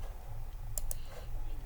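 A computer mouse clicks twice in quick succession, sharp and close, over a faint steady room hum with no talking.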